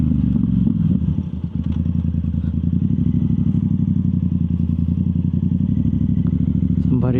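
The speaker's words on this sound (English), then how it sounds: "the exhaust sounds very nice" A Yamaha YZF R7 with a Yoshimura full exhaust idles loud and close, a steady deep burbling throb with small clatters, then a short rising blip of revs at the very end.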